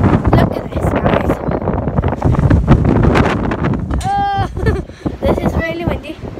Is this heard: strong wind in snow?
yes